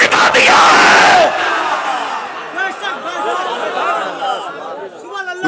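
A religious gathering's crowd loudly chanting a slogan in unison, a roaring burst at first that drops into a lower-level crowd response under a voice.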